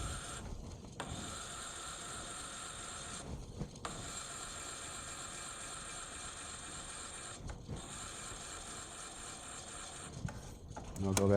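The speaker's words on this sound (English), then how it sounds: "I will grind this in until it stops grinding" An Accu Finish knife sharpener grinds a blade at a demonstration in Seattle, giving a steady mechanical whirring hum for about eleven seconds, broken by a few brief pauses.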